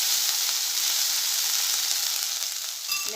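Ginger, chili, garlic and curry leaf paste sizzles steadily in hot oil with mustard seeds, a loud, continuous close frying hiss with no talking.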